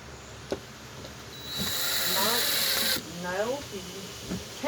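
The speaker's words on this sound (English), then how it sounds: "Use your drill here, just don't over tighten." A cordless electric drill whirs for about a second and a half while driving a screw during a Traxxas Rustler 2WD RC car repair, loud and close, with a voice talking around it.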